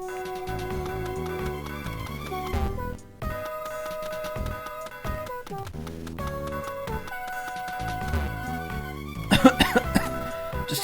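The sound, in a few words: character coughing in the video game Mother 3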